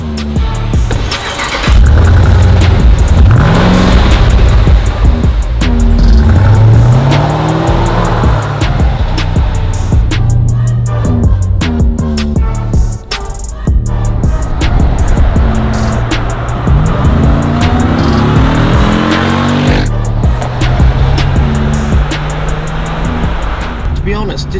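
A 2018 Jeep Grand Cherokee Trackhawk SUV accelerates hard, its loud engine note rising and falling through repeated upward sweeps of revs. Heard from close by, with someone talking over the roar at points.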